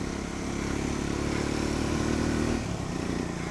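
An adventure motorcycle's engine drones loudly and continuously, a steady low throb as the bike rides along.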